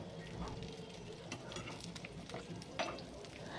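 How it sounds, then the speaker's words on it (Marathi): Okra fries in oil on a tawa with a close, busy sizzle and crackle. Scrapes and clicks from turning the pieces come through at intervals, and no voice is heard. "मी सर्व भेंड्या या तव्यावरती टाकत आहे आणि आता या भेंड्यांना अलटून पलटून छान असं फ्राय करून घ्यायचं आहे"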